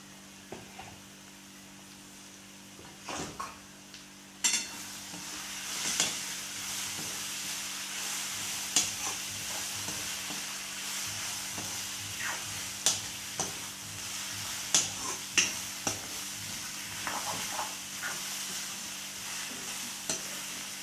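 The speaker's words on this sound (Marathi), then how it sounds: "व्यवस्थित छान असं दोन मिनटं आपल्याला परतून घ्यायचे" Radish chutney with crushed peanuts is sautéed in a pan, with a steady soft sizzle and hiss under repeated scraping spoon strokes over about twenty seconds, close and fairly quiet, with no voices.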